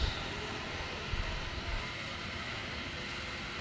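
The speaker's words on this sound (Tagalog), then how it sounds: "Lakas ng hangin. Grabe ang lamig." Strong night wind in Santo Tomas, a steady broadband roar with gusty low rumbling buffeting the microphone, constant and loud throughout with no talk.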